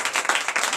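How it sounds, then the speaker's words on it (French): A church congregation at a night deliverance service in Comè, Benin, claps for prophetess Diane: a short burst of lively, rhythmic crowd clapping. "qu'on applaudisse très fort la prophétesse Diane"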